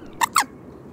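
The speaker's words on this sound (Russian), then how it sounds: "Взять хотя бы голос камышницы." Two quick, sharp squeaky calls from a common moorhen, close together over a soft steady background hiss.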